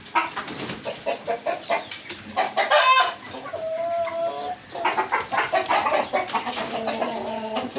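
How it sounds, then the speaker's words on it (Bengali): Chickens cluck busily close by, with a rooster crowing partway through, in a lively, continuous farmyard chorus. "এই যে একটা মুরগি দেখেন, এই যে আসবে দেখেন"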